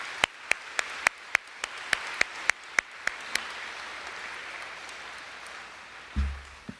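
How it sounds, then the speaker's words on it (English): Applause at a high school senior academic awards ceremony, heard as a sparse run of about a dozen separate sharp claps spaced out and fading over a few seconds against a quiet room, then a low thump at the end. "round of applause"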